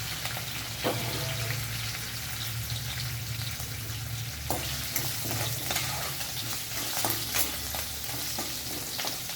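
Spices crackle and sizzle in hot oil, a steady frying hiss with sharp pops scattered throughout, fairly close.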